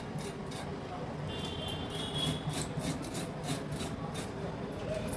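A knife scrapes scales from fresh Bombay duck fish, giving repeated short rasping strokes close by, moderately quiet, with someone speaking over the scraping.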